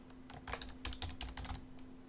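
Quiet computer keyboard typing while entering login details, a rapid run of soft clicking keystrokes in short bursts over a steady low hum, nearby and without speech.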